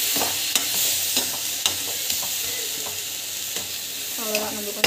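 Raw banana pieces fry in a pan with a steady soft sizzle, punctuated by repeated sharp scrapes and clinks of a spoon stirring against the metal.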